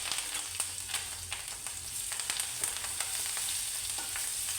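Chopped chili, curry leaves and ginger sizzle in hot oil as a tempering for upma, a steady close crackle with scattered sharp pops throughout, with no talking.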